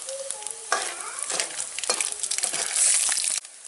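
Turkey berries (sundakkai) fry in hot oil with a loud, steady sizzle, broken by scraping stir strokes and small crackles close by.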